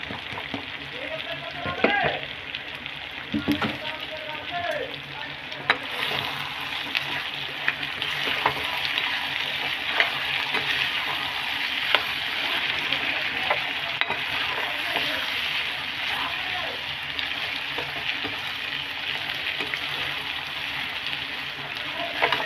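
Chicken feet frying in a pan, a steady hiss and crackle of hot oil running throughout at moderate level, with a little faint stirring and occasional scraping.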